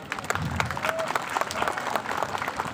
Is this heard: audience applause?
yes